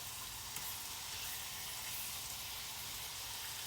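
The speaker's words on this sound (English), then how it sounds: "I'm going to try to get them evenly distributed throughout the pan where they're all getting equal parts of butter, and I'm going to brown them up" Chicken thighs browning in butter in a pan, giving a steady, close hiss and sizzle that runs unbroken throughout.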